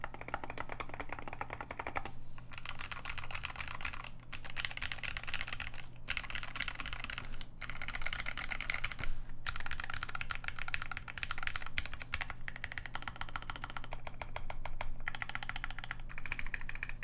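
Typing on a Key65 keyboard fitted with DSA Magic Girl metal keycaps and Tiffany Tealios switches, rapid clacky keystrokes in bursts broken by brief pauses, close and crisp over a low steady hum.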